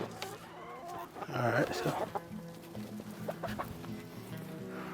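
Backyard chickens cluck in a homestead coop after an ice storm, with one louder squawking call rising mid-clip among softer clucks, as a person speaks briefly nearby.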